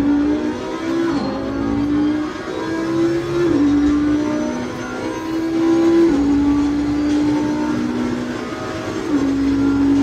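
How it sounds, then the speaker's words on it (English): A new Audi race car in a racing game revs steadily, its engine note climbing and stepping through gear changes over ten seconds, loud and alone without talk. "This is the new Audi from the Challenger pack."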